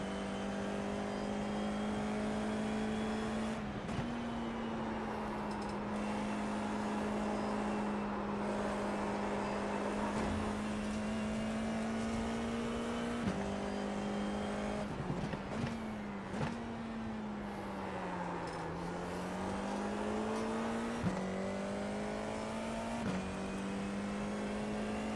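Formula 4 race car lapping Tsukuba circuit, its engine droning steadily in onboard perspective with pitch shifts at each gear change and braking zone, climbing again on the exits over about 25 seconds.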